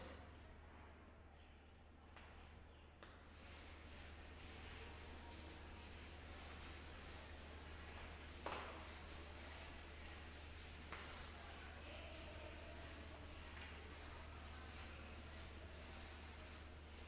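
Steady rubbing and scraping of an eraser across a classroom board, wiping away written examples; a continuous dry scrubbing texture over a low constant hum, with no talk.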